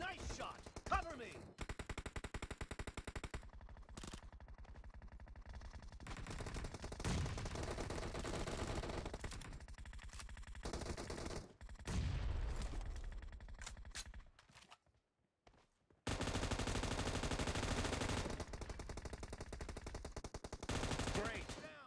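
Automatic weapons fire nonstop in a third-person shooter game match set in a warehouse, dense rapid bursts that are loud and close, broken by a couple of short gaps before the shooting resumes.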